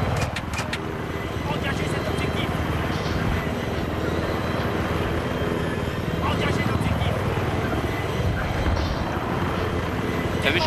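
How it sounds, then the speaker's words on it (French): An enemy helicopter in the Battlefield 3 video game drones steadily with a dense rotor roar throughout, mixed with game noise while players talk over it. "Attention, j'ai repéré un hélico ennemi."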